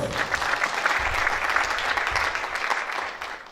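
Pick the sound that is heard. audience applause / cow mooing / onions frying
audience applause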